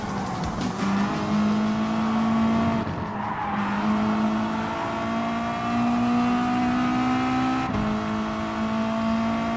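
A Subaru WRX Gr.B rally car races in Gran Turismo Sport, its engine droning loud and steady with rising revs, brief gear-change dips and a tire skid partway through.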